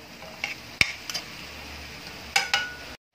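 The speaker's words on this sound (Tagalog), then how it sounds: "Haluin lang natin ulit yan." A utensil stirs adobong sitaw, Filipino string beans, in a cooking pan. A few close clinks and scrapes of metal against the pan fall over a low sizzle, then the sound stops abruptly.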